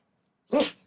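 A single short, sharp dog sneeze bursts out close up after a moment of silence.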